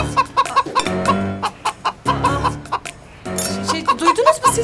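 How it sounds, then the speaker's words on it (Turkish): Loud, close chicken clucking in rapid bursts, broken by short pauses and a brief lull midway. "Nereden geliyor gerçekten bu gıdaklama?"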